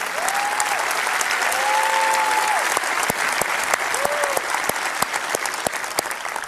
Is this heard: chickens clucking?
no